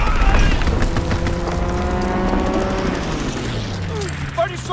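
A fighter aircraft strafing run in the video game Call of Duty WWII: a loud, sustained roar of engine and rapid gunfire with a droning pitched tone that slowly falls away, and a voice calling out over it.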